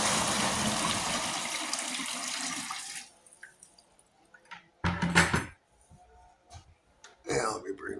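Water pours briefly into plastic chicken water cups, a steady splashing hiss for about three seconds before quieter clinks and handling noises, with someone speaking nearby.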